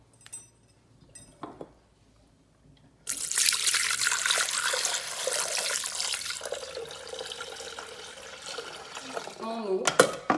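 Tap water runs steadily into a Thermomix bowl set on a kitchen scale, about 1200 g poured in a long, bright stream after a few light clicks, with a brief clatter at the end.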